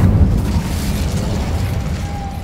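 An Incendio fire spell in Hogwarts Legacy erupts as a loud, sustained fiery blast, a dense rumbling roar that holds steady for a couple of seconds with a brief tonal whine near the end.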